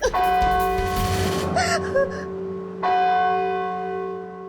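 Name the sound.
bell ringing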